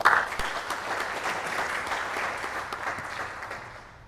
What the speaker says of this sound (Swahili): Tuwape makofi kidogo.